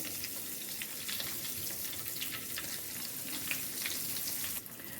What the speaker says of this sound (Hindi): मीडियम फ्लेम पे इसको हम फ्राई करेंगे